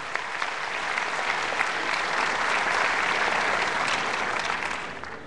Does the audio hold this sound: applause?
yes